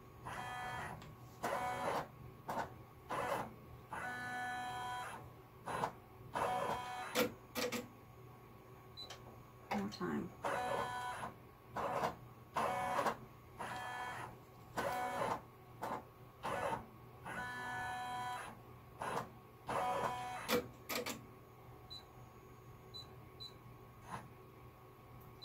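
A Brother PR 600 embroidery machine stitches a thick fluffy fur trapper hat, its needle mechanism chattering in rapid bursts separated by short pauses, repeating rhythmically and close by over a low steady hum.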